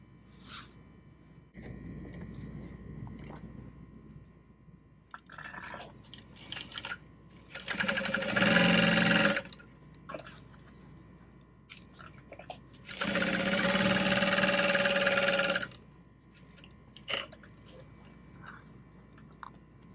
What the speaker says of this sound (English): exterior panel right side up, sew along the 3 edges